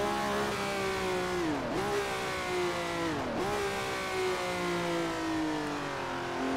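A GT Legends racing car in Assetto Corsa holds a loud, close engine drone, dipping sharply twice as it shifts gears and then pulling back up in pitch, with no talk over it.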